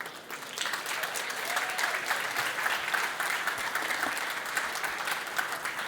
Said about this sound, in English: Let's give them a big hand for some of their work.